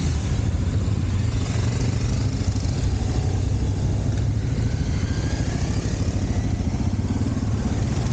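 Several adventure motorcycles pass by on a trail event, their engines giving a steady, continuous rumble at moderate volume, heard on their own with no talk.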